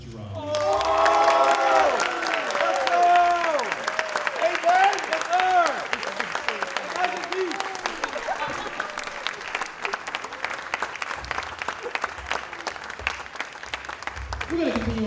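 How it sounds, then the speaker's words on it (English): Sustained audience applause with cheers greets the drummer at a school jazz lab band concert, loud and dense at first, then settling into steady clapping as a voice starts over it near the end. "let's give a round of applause for Benjamin Lamb on the drums."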